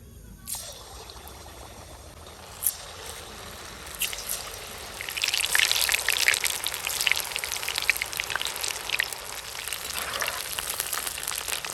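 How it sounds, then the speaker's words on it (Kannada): Jackfruit kebabs deep frying in oil: a soft hiss at first that swells into a dense, bubbling crackle, close and fairly loud, holding steady to the end with no voices. "ಇದು ಒಳ್ಳೆ ರೀತಿಯಲ್ಲಿ ಫ್ರೈ ಆಗಿದೆ, ಬೇಗ ಫ್ರೈ ಆಗುತ್ತೆ"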